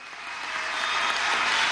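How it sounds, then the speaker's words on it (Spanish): Applause from an audience at an outdoor government food event in La Guaira, Venezuela, building steadily to a dense, loud wash of clapping over nearly two seconds with no voices on top. "Un aplauso desde La Guaira"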